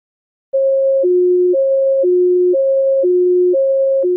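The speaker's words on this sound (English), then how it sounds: "Let's start with a relatively slow oscillation between notes a perfect fifth apart." A pure tone alternating steadily between two pitches a fifth apart, switching about every half second after a brief silence.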